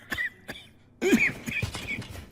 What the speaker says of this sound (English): Let me cure your cough.